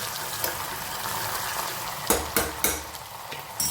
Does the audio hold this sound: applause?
no